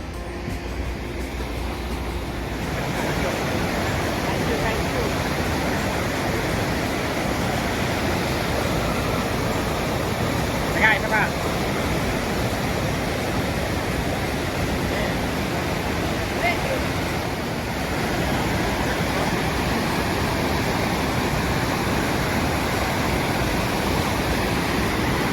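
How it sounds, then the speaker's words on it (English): A large waterfall at Geiranger, Norway, roaring as a steady, dense broadband rush that fills the whole stretch with no letup, heard from a moderate distance. "it's a pretty hefty waterfall."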